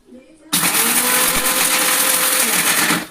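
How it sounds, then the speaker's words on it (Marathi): A kitchen mixer grinder whirs at full speed, loud and continuous, grinding almonds, fennel, poppy seeds, sugar, cardamom and coriander powder for a homemade baby drink after a faint start. "तर हे सगळं मिक्सरमध्ये टाकून ग्राइंड करून घ्यायचं."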